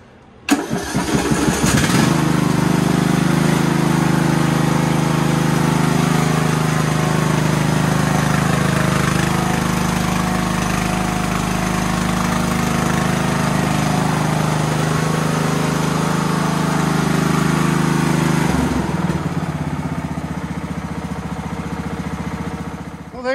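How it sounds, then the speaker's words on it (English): A Craftsman LT1000 lawn tractor engine cranks and catches on a cold start after sitting a week, then runs loud and steady at idle for about fifteen seconds before shutting down. "So how about one last cold start after it's been sitting for a week or so?"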